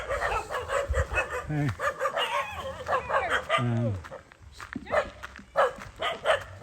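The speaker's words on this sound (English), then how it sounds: "I find that the dogs are barking at me" Several dogs bark and yip at a rural roadside in Barotac Viejo, Iloilo, with repeated barks near and farther off, mixed with a voice speaking and a rooster-like call.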